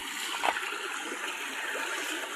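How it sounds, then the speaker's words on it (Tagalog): River water flows with a strengthened current, giving a continuous broadband rushing and gurgling wash, fairly loud and steady, with a brief splash near the start. "Lumakas na ang daloy ng tubig."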